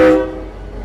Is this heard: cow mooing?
no